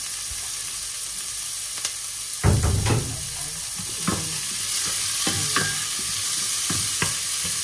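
Chopped onion and chicken liver sautéing in a pan for chicken liver steak, a steady sizzle broken by repeated scraping strokes of a spatula, close and moderately loud with no talking.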